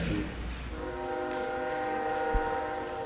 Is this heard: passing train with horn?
yes